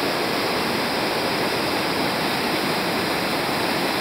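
Cachoeira Alta, a mountain waterfall in Espírito Santo, Brazil, heard from above its drop as a loud, steady, unbroken rush of falling water with no voices.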